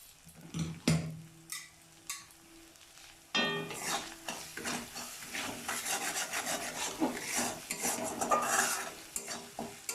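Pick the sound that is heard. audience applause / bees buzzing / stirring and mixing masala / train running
stirring and mixing masala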